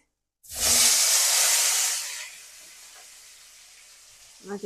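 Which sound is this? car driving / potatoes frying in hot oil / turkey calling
potatoes frying in hot oil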